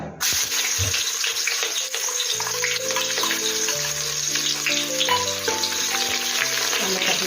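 Chopped onion dropped into hot oil with a bay leaf, giving a steady, fairly loud frying hiss that runs the whole time beneath background music.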